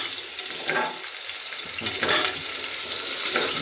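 Biryani ingredients fry in hot oil until golden, giving a close, continuous sizzle with a few stirring swishes; no one speaks.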